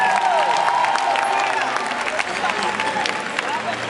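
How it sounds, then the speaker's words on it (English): Concert crowd at a show in Albany, Georgia, clapping and cheering loudly with babble and scattered shouts and whistles, sustained throughout. "Give yourself a round of applause."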